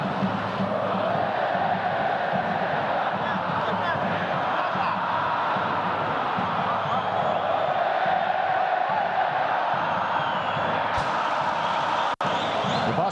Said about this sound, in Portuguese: Debaixo de muito barulho da torcida